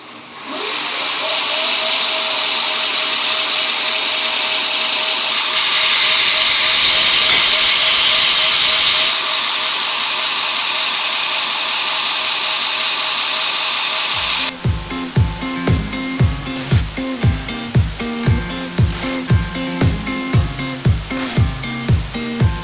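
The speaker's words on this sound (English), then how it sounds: "I'm going to go over on the flat platen with a 60 grit belt and grind all 6 screws" A belt grinder with a 60 grit belt on a flat platen grinds screws down to length for removable knife handles. It gives a loud, steady hissing roar that swells as metal meets the belt, then shifts to a rhythmic series of sharp pulses.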